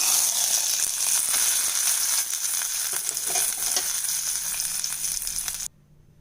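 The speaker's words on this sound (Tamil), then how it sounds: "இப்போ நம்ம தாளித்த கலவையை இதில் சேர்த்துடலாங்க" A tempering mixture is tipped into a hot pan and stirred, producing a loud, bright sizzle with scraping utensil sounds that stops abruptly near the end, no speech.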